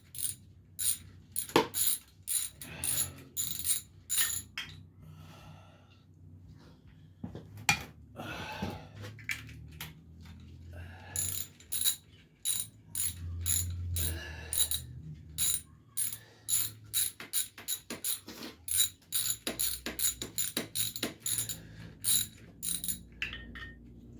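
A ratchet wrench works nuts loose on the top end of a 1983 Suzuki PE175, giving sharp repeated metallic clicks in quick bursts. Quieter clanks and handling noises fall between the bursts, close up and with no talk.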